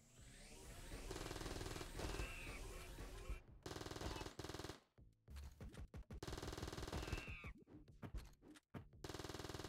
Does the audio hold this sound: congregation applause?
no